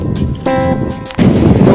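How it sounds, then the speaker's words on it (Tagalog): Strong typhoon wind roars over heavy sea waves crashing along the shore. The loud, continuous broadband rush surges again near the end, with no talk. "Malakas talaga yung alon guys. Lakas yung hangin."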